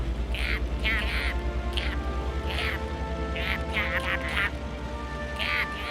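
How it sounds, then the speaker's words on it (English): Several ducks quack in repeated short bursts, fairly close, over a steady low background hum. "if you listen closely, these ducks will tell you exactly what they're doing"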